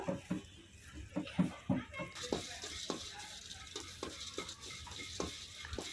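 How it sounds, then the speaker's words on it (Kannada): Cardamom pods dry-roasting in a pan, stirred with a utensil that scrapes and clinks in a steady run of sharp strokes, close and moderately loud, with a faint sizzle in the background. "ಏಲಕ್ಕಿನೂ ಫ್ರೈ ಮಾಡ್ಕೋಬೇಕು ಅರ್ಧ ಬರ್ಧ ಹುರ್ಕೋಬೇಕು"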